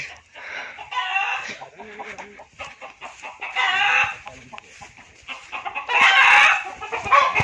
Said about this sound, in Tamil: பாருங்க கோழி பண்ணை, எங்கள் ஊர் கோழி பண்ணை